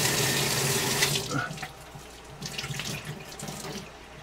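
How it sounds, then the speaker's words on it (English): Tap water runs steadily from a faucet into an orange cup, a loud splashing hiss that eases off partway through to a quieter trickle, with no speech. "The tap water, I'm gonna put in the orange cup."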